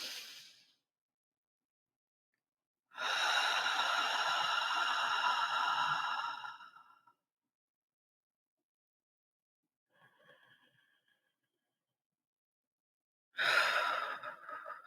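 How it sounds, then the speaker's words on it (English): Slow, deep breaths are heard in a quiet room: a partial breath at the start, one long breath lasting about four seconds, a faint soft breath in the middle, and another breath near the end, with silence between them. "we're going to breathe in and we're going to breathe out"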